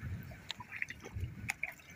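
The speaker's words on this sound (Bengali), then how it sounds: "এই যে পানির উপরে এই যে পানি পড়ছে" Water drips onto standing water near a pond, a few quiet scattered drops and small splashes over a low background rumble.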